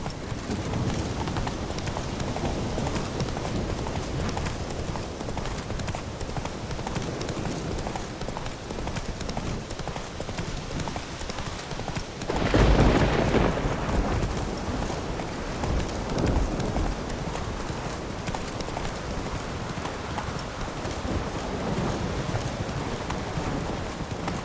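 Roach, a horse in The Witcher 3: Wild Hunt, gallops with rapid, continuous clip-clop hoofbeats over a steady rushing background, swelling briefly louder midway.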